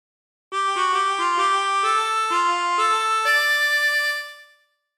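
The Family Guy theme phrase played on a chromatic harmonica as a clean sequence of about eight sustained reedy notes stepping in pitch, played solo and close, then fading out.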